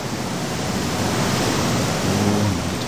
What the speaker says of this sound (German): Okay, hier ist ein Wasserfall